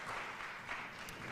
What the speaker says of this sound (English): Big round of applause once more.